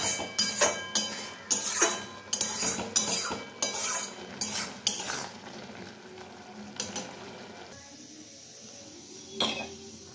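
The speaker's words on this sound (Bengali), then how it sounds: "এই যে সবজিটা এখন এটা নাড়বো একটুখানি" Metal utensil stirring boiled vegetables in a pan, a series of clattering scrapes and clinks in quick irregular strokes, then quieter sizzling with a lone clink near the end.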